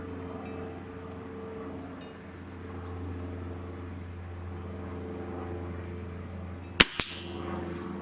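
A Gamo Swarm Magnum Gen3i air rifle fires with a sharp crack, followed at once by a smaller knock as the pellet strikes an egg target, set against a steady low outdoor hum.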